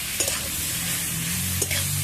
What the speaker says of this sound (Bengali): এই সবজিগুলো একটু নেড়ে চেড়ে ভেজে নিচ্ছি।